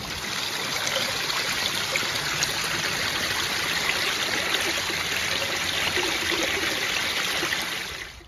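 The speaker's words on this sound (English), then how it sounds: "there's a pump or drain or something running down there" Water pours steadily from a big pump or drain pipe beside a hiking trail, a loud, close, unbroken rushing and splashing with no voices.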